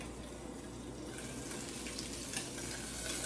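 Wild scallops cooking in a hot pan give off a steady, close sizzle and crackle that runs without a break and stays even in level, with no voices.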